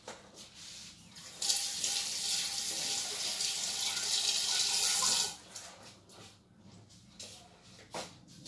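Tap water runs into a sink as fresh tulsi leaves are rinsed for tea, a steady hissing stream lasting several seconds before cutting off, followed by faint handling noises nearby.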